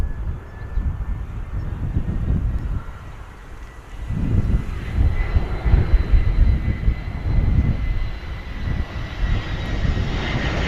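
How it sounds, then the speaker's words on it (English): An EasyJet Airbus A320 landing at Bristol Airport, arriving from Paris Charles de Gaulle, gives a steady, loud jet engine roar that swells after a few seconds and holds with wind rumble, no voices present. "EasyJet coming in from Charles de Gaulle, A320."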